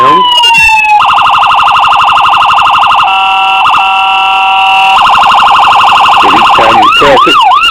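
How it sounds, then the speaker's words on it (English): A toy Texas State Police 2015 Chevy Tahoe siren cycles through several electronic tones: loud, steady rapid yelping warbles that switch pattern partway, then break into a swooping wail at the end. "The siren, you press this one time here, turns it on, and it goes through a few different sounds"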